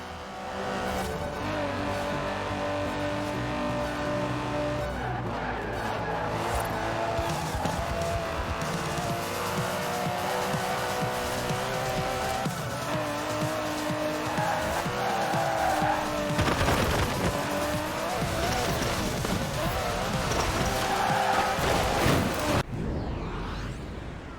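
An Aston Martin DB11 races in Forza Horizon 4, its engine roaring steadily with gear changes, repeated tire squeals and skids, and whooshing passes throughout, loud and continuous with no speech.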